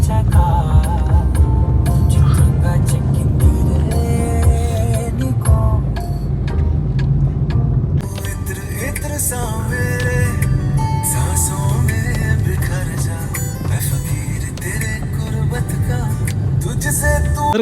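A Baleno car drives along a winding ghat section road, its steady engine hum and road rumble continuous and close from inside the cabin, with music and occasional voices layered over it.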